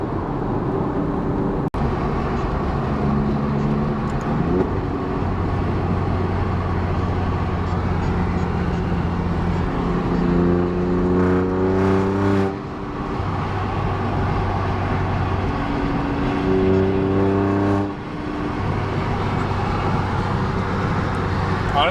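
Alfa Romeo Giulia Quadrifoglio fitted with Supersprint downpipes, its exhaust droning steadily as it upshifts through gears, each shift marked by a brief dip and a crackling overrun, heard with road noise and no talk.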